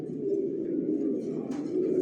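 Racing pigeons coo steadily in a breeder stock loft, a low continuous murmur of several birds close by, with a brief rustle or flutter near the end.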